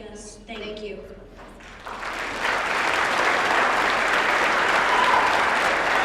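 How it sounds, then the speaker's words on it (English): A charity gala crowd at the Dallas Bone Bash bursts into applause after a short spoken moment at the start, the clapping swelling into a loud, sustained, dense roar. "Keep your applause going."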